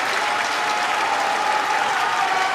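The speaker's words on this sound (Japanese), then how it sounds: "再び館内が大きな拍手に包まれます。" Spectators in a sumo tournament arena applaud after a bout at the 2026 Natsu Basho, a broad, sustained wash of clapping filling the hall at an even loudness.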